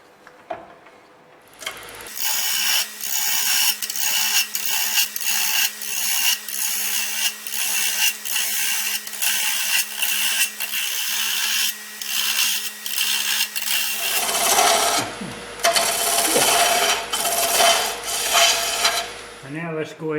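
A Little Beaver cutter works a wooden handle with loud, rapid, evenly spaced mechanical clicks and ratcheting. The rhythm shifts briefly partway through and then carries on, close and unbroken.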